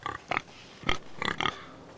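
A pig in Game of Thrones: A Telltale Games Series gives several short grunting oinks in quick bursts, moderately close and alone, with short gaps between them.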